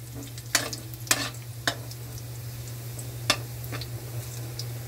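Caldereta ingredients frying in a pan: a steady sizzle under a low hum, broken by a handful of sharp scraping knocks as the spoon stirs, with no speech.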